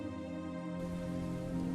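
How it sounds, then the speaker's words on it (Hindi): Rain falling as a sound effect in an animated devotional story, a steady close patter of drops on a surface that thickens slightly after the first moment and continues evenly. "अरे माँ, बारिश शुरू हो गई है।"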